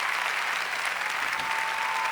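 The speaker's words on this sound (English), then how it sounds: "Clap your hands, ladies and gentlemen." Continuous applause from a concert audience fills the whole stretch, a dense, even wash of clapping at steady loudness with no talking over it.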